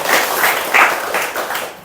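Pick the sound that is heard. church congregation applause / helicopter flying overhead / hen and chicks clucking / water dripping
church congregation applause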